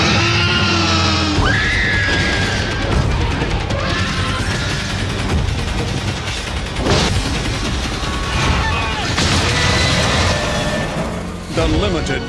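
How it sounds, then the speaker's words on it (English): Jurassic Park and The Lost World trailer footage shown in a VHS opening, with loud screaming, crashes and booms over a dramatic music score, dense and continuous with voices mixed in. "Then later there's running and screaming."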